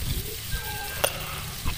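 Butter sizzles softly in a pan for buttered garlic shrimp, a short faint hiss with a few small pops and a light stirring scrape.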